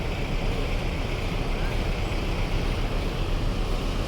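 Engine of a Rosalia Indah intercity bus on a Wonogiri to Jakarta run, a steady loud low rumble and drone heard from inside, constant throughout with road noise and no clear talk.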